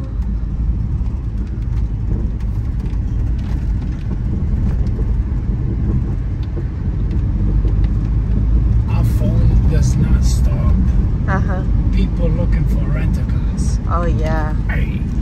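A car drives in traffic on a road in São Miguel, Azores. Steady road rumble and engine noise run throughout, with people talking inside the vehicle over it.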